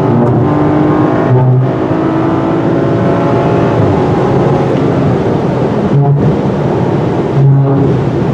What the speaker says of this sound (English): This 6-cylinder engine is great if you're going to be doing a lot of passing.